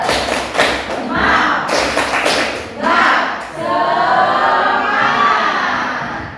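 A school class does a rhythmic spirited clap chant, a quick run of loud sharp claps broken by children's voices shouting together, with a longer shouted cry toward the end.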